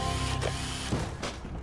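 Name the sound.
weapon upgrade machine in BioShock video game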